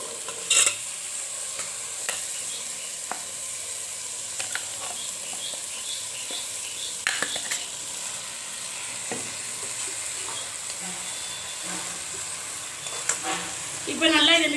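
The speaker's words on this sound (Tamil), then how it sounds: "இப்போ நல்லா இதை மிக்ஸ் பண்ணி விட்டுக்கலாம்" Chana masala is stirred and fried in a pan, with a constant soft sizzle and occasional scraping clinks of the spoon against the pan, fairly quiet and close.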